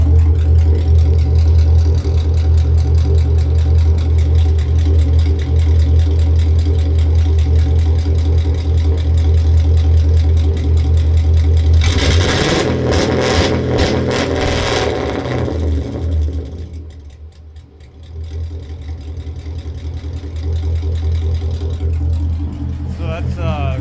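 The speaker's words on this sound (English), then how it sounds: "Alright, so I got the rev limiter working, so I'll try to take a video." A car engine fitted with a rev limiter set near 2,500 rpm idles with a steady low drone, then revs hard against the cutoff for a few seconds before dropping back to idle.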